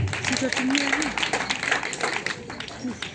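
An audience claps at an engagement ceremony, a steady round of applause running under a voice speaking over it.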